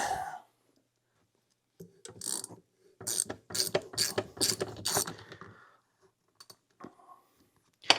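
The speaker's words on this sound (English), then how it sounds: "It is a 4mm to crack that loose, and then a 5mm. Might have to do that with a socket." A socket ratchet works a bolt loose on a 2006 Yamaha YZ250. Close, crisp runs of pawl clicking come in short bursts, with a quick sequence in the middle and pauses of silence between strokes.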